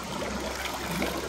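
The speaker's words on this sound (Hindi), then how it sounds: "यहाँ से ये पानी आ रहा है" Clear, very cold spring water flows from a natural spring near a lake at Kallar Kahar, a steady close splashing trickle with no voices.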